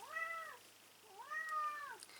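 A house cat meows twice indoors, each call a drawn-out, rising-then-falling wail about half a second long, separated by a short pause and fairly soft.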